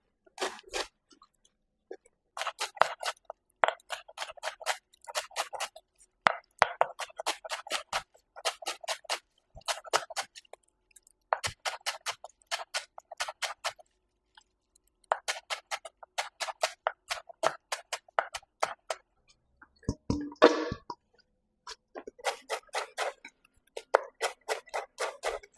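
A knife slices through a tightly held bundle of callaloo leaves in repeated bursts of quick, crisp chops, close and clear, separated by short quiet pauses.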